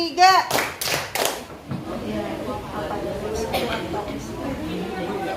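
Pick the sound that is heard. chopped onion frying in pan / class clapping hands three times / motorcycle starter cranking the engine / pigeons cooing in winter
class clapping hands three times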